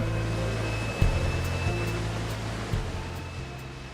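An electric induction furnace running while melting a charge of iron, giving off a steady low roaring hum with a thin tonal whine and a couple of dull knocks.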